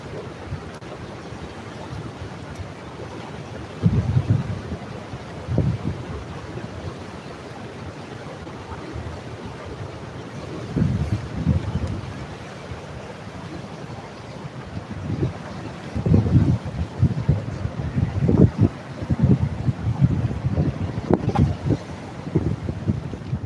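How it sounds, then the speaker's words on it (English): Rushing water at Niagara Falls in winter, heard from an icy trail near the falls as a steady wind-blown roar with bursts of louder gusts and surging water, no voices. "I'm gonna go closer to hear the water sound."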